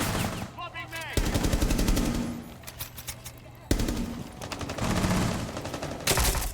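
Automatic rifle fire in a Rainbow Six Siege esports match, loud rapid bursts repeating in stretches with short pauses, close and dominant, with a caster's voice faintly underneath.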